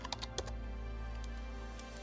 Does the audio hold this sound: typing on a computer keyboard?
yes